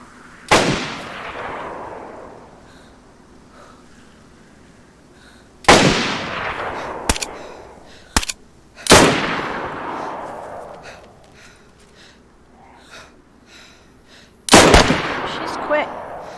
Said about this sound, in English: I haven't been shooting this gun, so I was like, oh, maybe I should start shooting it.